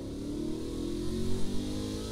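A car engine in a video game revs steadily and climbs slightly in pitch, close and continuous for about two seconds with no talking.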